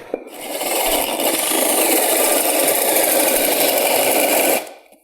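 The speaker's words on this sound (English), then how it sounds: "take an 1 1/4 spade bit, drill a hole into the bottom of this post" A power drill with a 1 1/4 inch spade bit bores a hole into the bottom of a wooden deck post, a loud steady whirring grind that runs for several seconds and then winds down, with no talking.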